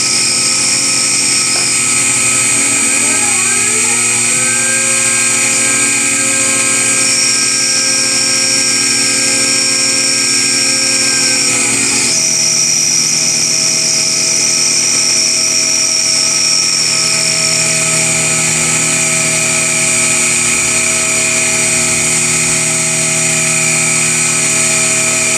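CNC machine profiling and cutting the flange of a Hemi valve cover, a loud, steady high-pitched whine of the spindle with tonal shifts as the cutter moves and changes path, no talking.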